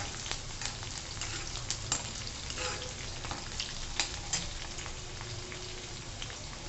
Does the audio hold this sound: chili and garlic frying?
yes